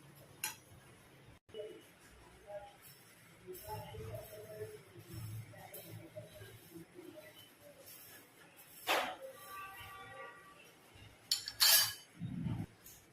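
Rice dry-roasting in a pan until lightly reddened for chakli bhajani flour, with sparse scraping and clinking of a spoon against the metal pan, irregular taps and a few sharper knocks, fairly close and moderately quiet.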